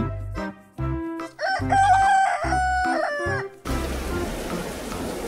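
Cartoon chickens cluck and a rooster crows in a series of short, loud bursts, followed by a steady hiss of rain near the end.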